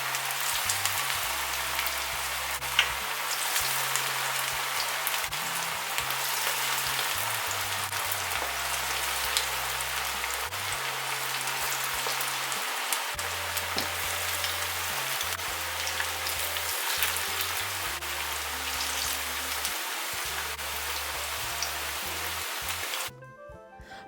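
Rayo saag pakoras fry in hot oil over medium gas heat, a dense, continuous sizzle like steady rain that stays constant and close throughout, with a low intermittent hum beneath.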